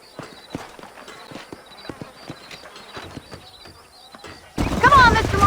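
Rapid rhythmic hoofbeats of galloping horses in the video game Red Dead Redemption, loud and near, with a voice cutting in at the end.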